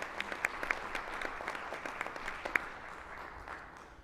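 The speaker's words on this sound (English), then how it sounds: "So let's give them a round of applause." Applause from an audience at a quarterly board meeting, a fairly faint, even patter of many hands with a few sharper individual claps standing out, heard from some distance and fading toward the end.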